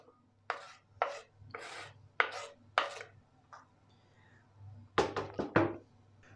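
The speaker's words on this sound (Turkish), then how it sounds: "Şimdi bütün tavuklarımı küçük küçük lime lime doğrayacağım." A knife chops chicken rapidly on a cutting board in short bursts, a few quick strokes, a pause, then another flurry of sharp close chops.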